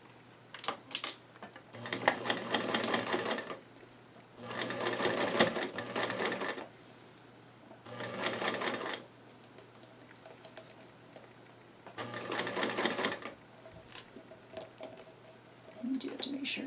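A sewing machine runs a continuous top stitch along doll-sized jeans in several bursts of steady, close whirring, each lasting a second or two, separated by quiet pauses with faint handling noises.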